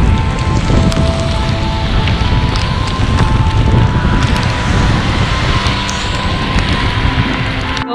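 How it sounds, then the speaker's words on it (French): Heavy thunderstorm rain pours steadily while cycling through the Alps between Austria and Slovenia near Bled, with constant wind buffeting the microphone and a dense, even roar throughout. "Il y a un orage qui nous a rattrapés."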